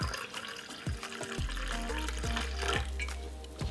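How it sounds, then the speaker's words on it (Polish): Filtered water and then very hot water poured into a cup in a kitchen, giving a soft, close trickling fill with a few light clinks at the start, fairly quiet and without speech. "wlewam sobie trochę przefiltrowanej wody i do niej dolewam tej bardzo ciepłej"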